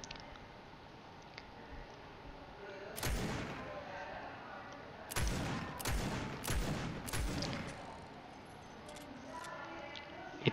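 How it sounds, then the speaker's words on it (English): Scoped revolver in a video game firing at a wooden wall: one loud shot, then a rapid cluster of about four sharp reports, each with a short tail over a steady background hum. "It takes 4 shots to destroy the wooden wall."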